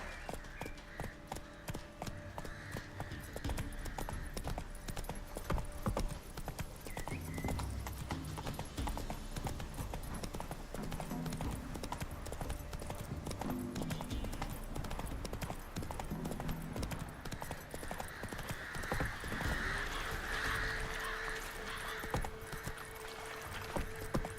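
Roach, a horse in The Witcher 3, gallops in a quick, steady rhythm of hoofbeats. The footfalls run through the whole stretch over faint ambient sound, with a brief whinny-like tone near the end.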